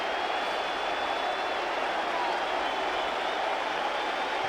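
A sold-out Yankee Stadium crowd of about 57,000 roars steadily at a 1995 playoff baseball game between the Seattle Mariners and New York Yankees, a dense, unbroken wash of cheering and clapping that holds level throughout.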